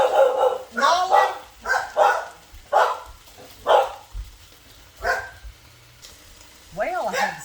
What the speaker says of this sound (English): All the dogs carrying on.